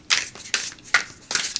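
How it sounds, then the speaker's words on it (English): Matte varnish tarot cards on 350 GSM stock being overhand shuffled by hand, four quick crisp riffling bursts in a brisk rhythm, close and clear with no talking. "Yeah, this shuffles well."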